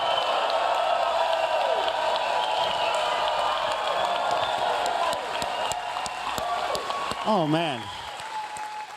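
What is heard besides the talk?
studio audience applause and cheering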